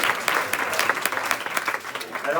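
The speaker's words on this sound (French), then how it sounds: "c'était pas des applaudissements spontanés" Applause from a live audience after a Rubik's cube magic trick on stage, a dense patter of handclaps that holds steady and fairly close for the whole stretch.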